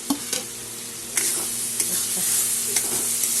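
Ground turmeric, cumin and chilli powder fry in hot oil for a Bengali fish curry, giving a soft steady sizzle with a few sharp scraping taps of a spoon stirring the pan.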